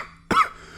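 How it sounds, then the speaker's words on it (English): A single sharp cough bursts out close to the microphone after a brief quiet moment, then trails off into low background hum. "I was coughing"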